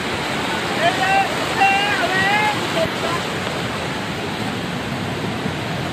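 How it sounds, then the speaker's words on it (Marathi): Kerle waterfall roars as a dense, constant broadband rush close by, steady and loud throughout, with faint birdlike chirps briefly audible over it early on. "आवाज केवढा याला बघा मित्रांनो, तेवढं हे पाणी जवळपास धबधब्याजवळ पोहोचलेत आपण"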